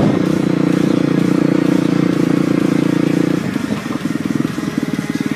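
Enduro motorcycle engine idling loudly up close on a mountain trail, a steady throbbing chug that dips and turns more uneven near the end as the bike settles to a stop.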